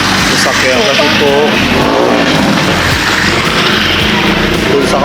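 Cars driving through a flooded road after heavy rain, engines rumbling and water swishing as vehicles pass close by, with someone talking over the traffic.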